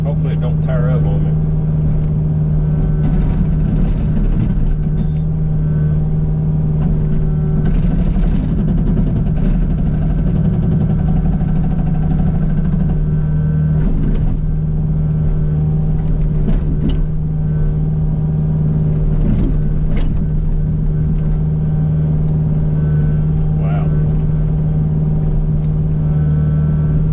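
An Agrotk 680 hydraulic hammer on a U55 mini excavator breaking up sand rock: a loud, steady engine drone with a constant low hum, close by, with faint irregular knocks and rattles over it throughout.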